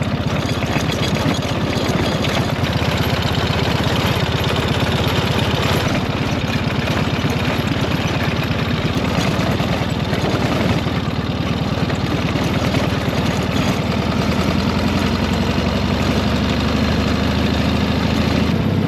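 Ural sidecar motorcycle engine droning steadily with a rough, vibrating rumble while riding over corrugated dirt road in the Australian outback, loud and continuous throughout.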